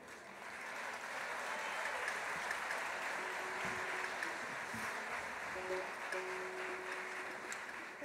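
Steady, dense audience applause at a folklore festival in La Laguna, Tenerife, filling the whole stretch at an even, fairly loud level without a break, alone with no talk over it.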